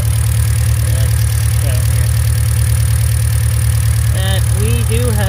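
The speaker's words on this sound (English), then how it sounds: "I'll start her up, and we'll take a listen to it. As you can probably hear, and by the engine shaking a bit," Hyundai Elantra GT engine idling with a misfire from a faulty spark plug or ignition coil, a steady rough low drone heard up close over five seconds while a person talks.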